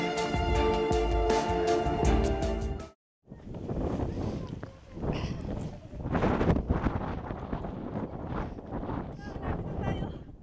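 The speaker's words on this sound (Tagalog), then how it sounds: "Ang lakas ng hangin, so baka tangayin ka dun sa kabilang side." Strong wind on a mountain in Korea, a loud rushing roar buffeting the microphone, cutting out briefly then returning in gusty bursts that rise and fall.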